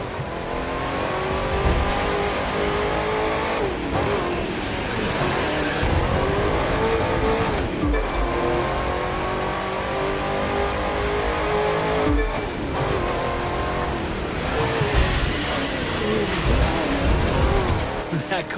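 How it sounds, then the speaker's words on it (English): A sleeper car's engine in the racing game The Crew 2 revs hard and accelerates continuously, with the harmonic pitch sweeping up again and again through gear changes and brief dips, loud and close throughout with no talking. "That car's really moving."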